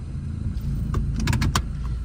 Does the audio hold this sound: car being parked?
yes